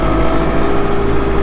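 Bobcat Toolcat utility vehicle engine held at high revs while stuck in snow with its wheels spinning, a loud, steady, droning engine tone with no breaks, close to the microphone.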